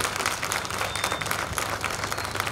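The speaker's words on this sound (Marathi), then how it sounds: "जरा जोरदार टाळ्या" Audience applause at a stage performance of a shahiri jalsa folk music show at a Bhim Jayanti celebration in Narayangaon, a steady, dense wash of clapping that holds at even loudness throughout.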